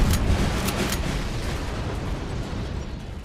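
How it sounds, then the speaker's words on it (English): Dense, loud explosion-like booms and bursts from the KARDS World War II card game, with several sharp bangs early on that settle into a continuous rumbling roar. "That was a lot of explosions."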